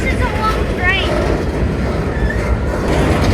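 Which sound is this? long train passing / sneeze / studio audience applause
long train passing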